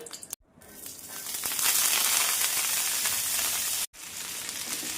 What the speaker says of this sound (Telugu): ఇప్పుడు నూనెలో మనం కొత్తిమీర పుదీనా వేసుకొని వేపుకుందాం